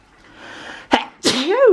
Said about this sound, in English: Bit of a sneeze.